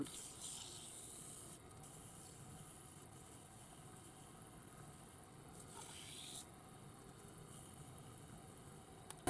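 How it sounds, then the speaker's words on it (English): Steady rasping friction of 400-grit sandpaper held against a duck call mouthpiece spinning on a lathe, with a continuous motor hum underneath and brief brighter scratchy bursts near the start and middle. "Right, sandpaper. 400."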